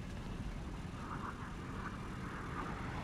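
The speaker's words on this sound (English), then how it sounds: "Oh boy, I heard a jet." A jet aircraft roars past in the War Thunder game during a ground battle, a steady broadband rush of engine noise at moderate loudness with no speech.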